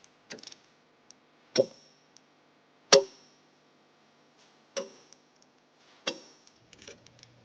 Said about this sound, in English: We can now tighten and torque the hardware to the manufacturer's specifications.